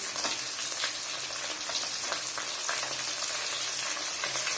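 Chicken curry frying in a pan for a home-style chicken kuzhambu, a steady, close sizzle with soft crackles and occasional stirring, no voices.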